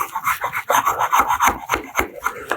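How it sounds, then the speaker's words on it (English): A chisel plane shaving wood in a woodworking shop, giving a rapid series of rasping, scraping strokes in an uneven rhythm, close and fairly loud with no talking. "Called a chisel plane."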